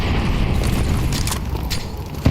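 Grenades bursting during a Counter-Strike B site rush, a continuous rumbling wash of booms and impacts with a sharp crack near the end, fairly loud throughout.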